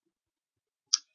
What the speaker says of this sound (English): We're going to our calculators and we're typing this time